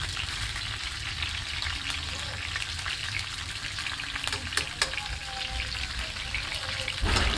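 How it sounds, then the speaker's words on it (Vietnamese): A large fish sizzles and fries in a pan, a steady dense crackle of hot oil with occasional sharper pops, close and loud throughout with no talking. "Cá mà cái tầm to như này mà rán này ăn thơm lắm."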